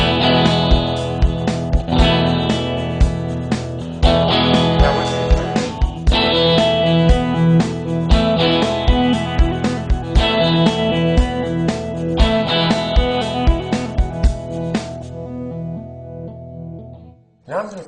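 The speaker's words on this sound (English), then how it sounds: "I'm going to play it first without the effect, and then you can hear me adding the effect" Electric guitar alternating between two chords through an AdrenaLinn III beat-synced effect, loud and rhythmic with pulsing, chopped repetitions in a steady tempo, ending abruptly with a brief closing note.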